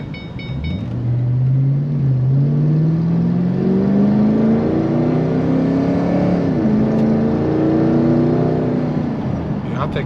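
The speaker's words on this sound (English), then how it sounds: "it's got an exhaust leak, definitely" An 8-cylinder car engine with an exhaust leak at an auto auction runs loud and steady, its rumbling note climbing gradually as it accelerates, dipping briefly, then rising again.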